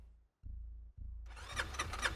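An ATV engine in the survival game SCUM cranks with a couple of short stuttering attempts, then catches and settles into a steady, buzzy idle, heard close and fairly quiet.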